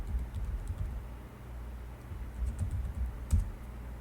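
Fingers type a password on a computer keyboard, giving quiet, irregular bursts of soft key clicks close by, with a brief louder keystroke near the end and no talk.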